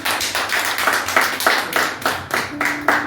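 A church congregation claps in praise of the Lord, a loud, close, steady rhythmic clapping that fills the whole stretch without talk over it.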